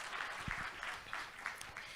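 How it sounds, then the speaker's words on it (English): Audience applause at the AgriHack pitch winners showcase, part of the AGRF 2022 summit, a steady wash of many hands clapping throughout, moderately distant and even in level. "Can we give Jahil a round of applause?"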